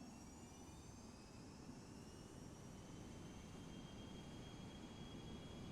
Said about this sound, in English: Adding some engine power.